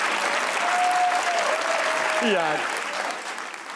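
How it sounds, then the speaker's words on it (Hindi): Studio audience applause on a Pakistani comedy talk show, a broad steady wash of clapping that swells and then tapers toward the end, with a voice speaking briefly over it. "जिनको लगता है मैं ज्यादा बुरा था वो तालियां बजाएं"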